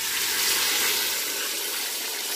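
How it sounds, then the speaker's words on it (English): Water pours into a pot of browning beef with garlic, ginger and pepper, a steady, close hiss and rush of liquid with no pauses. "I'm going to add a little bit of water to cook this beef for like 5 minutes"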